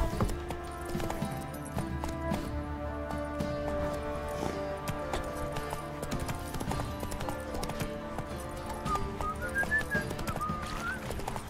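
Roach, Geralt's horse in The Witcher 3, clip-clops along at a steady rhythm of hoofbeats beneath a continuous layer of game music with a brief whistled melody near the end.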